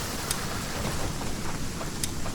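Rain falls steadily in the Aska video game, a dense, even hiss of drops with a few faint sharper taps scattered through it.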